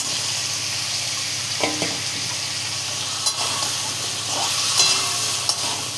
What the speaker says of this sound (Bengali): বন্ধুরা, আমি গাটি কচু কটাকে আমি ভাজা ভাজা করে দিই।